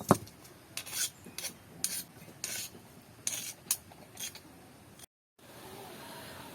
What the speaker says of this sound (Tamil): இப்போ சம்பல் அரைச்சிட்டோம்